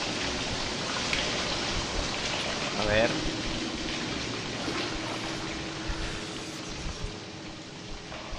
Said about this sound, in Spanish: Ya aquí está cayendo agua.